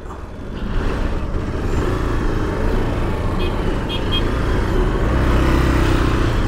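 Dense highway traffic sits jammed on the road from Rajahmundry toward Suryapet, a steady loud rumble of idling cars, trucks and motorcycles all around, with a few faint horn beeps mixed in.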